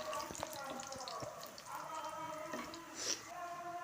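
Garlic frying in hot oil with panch phoron and a bay leaf, a soft steady sizzle with light crackles and a few pops, heard close and fairly quiet throughout.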